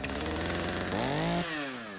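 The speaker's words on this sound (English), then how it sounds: "A worn but functional chainsaw with 245 painted on the side." A worn chainsaw with 245 painted on the side revs in the horror video game Don't Scream, a loud continuous engine buzz that rises in pitch mid-clip then settles back down.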